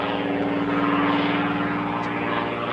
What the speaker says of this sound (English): you hear the engine coughing and spluttering just a little bit